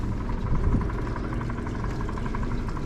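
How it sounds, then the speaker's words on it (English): A boat's trolling motor runs as the boat eases into a slip, a steady humming whir with constant level throughout, close and without speech. "now we have switched to the trolling motor as we try to get into our boat slip"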